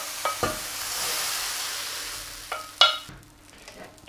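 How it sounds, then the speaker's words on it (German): Mushrooms go into a hot pot while a vegan dark sauce is cooking, setting off a steady, close sizzle with a few sharp clinks of a utensil against the pot. "Die Pilze wandern jetzt auch in unseren Topf."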